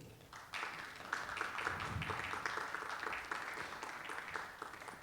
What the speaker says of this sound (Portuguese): Recebam com aplauso, por favor.